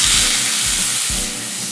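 Steak sizzles in a hot frying pan, a continuous loud hiss with dull low thumps underneath and no talking.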